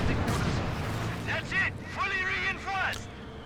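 Tank cannon shots in a video game, fired against a Panther tank's frontal armor: dull booming reports with shells bouncing off, heard beneath voices talking.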